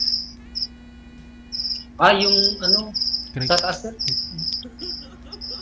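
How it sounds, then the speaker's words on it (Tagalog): Cricket chirping in high, pulsing trills that repeat steadily and close by, continuing while people talk briefly partway through, over a faint low hum. "Kuliglig po yun!"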